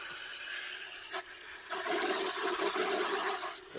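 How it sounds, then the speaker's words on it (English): A water spray nozzle rinsing paint out of a bucket, a soft hiss that swells into a louder rushing spray, fairly close and steady after a brief burst. "Spray all the paint out of my bucket."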